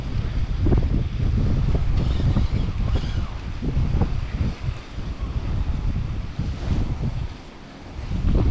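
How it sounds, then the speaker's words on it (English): Strong wind buffets the microphone in heavy, rumbling gusts while perch fishing, rising and falling unevenly, with a brief lull before it surges again. "It's very windy, so I hope you can hear me."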